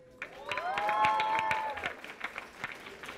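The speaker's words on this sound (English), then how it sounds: "Go ahead and give yourselves a hand clap." An audience at a middle school STEM lab opening gives a round of applause, a burst of hand clapping that swells then thins into scattered claps, mixed with a tonal whistle-like sound at the start.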